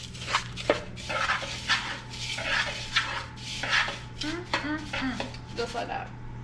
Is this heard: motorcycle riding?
no